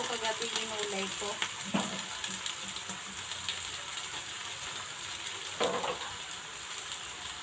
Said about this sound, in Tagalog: Ating ginisang alugbati